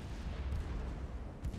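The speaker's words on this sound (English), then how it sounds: "There's her heavy guns." Heavy guns of a warship firing in the naval game Ultimate Admiral: Dreadnoughts, a low rumbling boom with a second muffled thud near the end, heard faintly.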